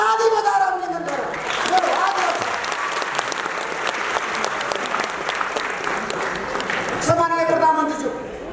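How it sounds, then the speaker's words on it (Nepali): A political audience breaks into sustained applause for Prime Minister KP Sharma Oli, a thick crackle of many hands clapping for about six seconds, with a speaker's voice audible before and after it. "हामी सबैले सम्माननीय प्रधानमन्त्री केपी शर्मा ओलीलाई ताली बजाएर अभिनन्दन गरौँ।"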